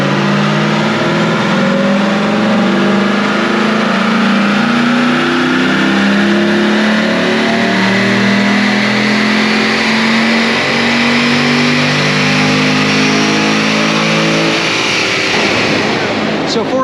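A C7 Corvette V8, choked before its AFE and MSD upgrades, winds up loudly on a dyno during a baseline pull, a continuous engine note climbing steadily for over fifteen seconds before dropping off.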